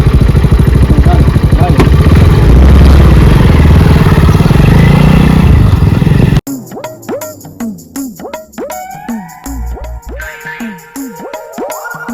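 A jugaad-style motorcycle engine runs loud and close for about six seconds, a rough steady clatter, before it cuts off abruptly and tonal voices take over.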